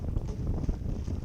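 Gusty wind buffets the microphone while sailing a dinghy in mid-teens winds off an island, a steady low roar with rapid flutter throughout the short stretch, no voices.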